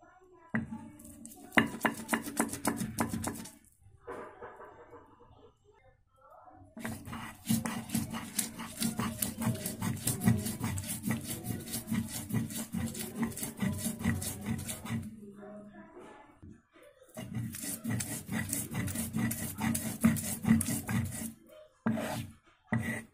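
Green chili being hand-pounded and ground on a silbatta stone for amla chutney: rough, rhythmic scraping and thudding in three long bursts separated by brief pauses, close and fairly loud.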